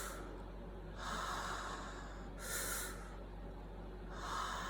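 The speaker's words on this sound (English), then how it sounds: "Slow it down, 3 more breaths." Slow, deep breaths during a guided breathing exercise, three long airy inhalations or exhalations spaced evenly apart, close and fairly quiet, with no talking.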